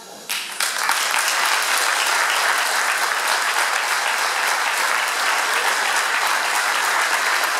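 Audience in a decorated hall at a celebration of forty years of political life in Estaimpuis, applauding with dense, sustained clapping that starts abruptly and holds steady and loud throughout.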